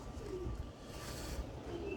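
Young pigeons coo softly in low, rounded murmurs, with a few faint chirps over a steady outdoor background; no voices are heard.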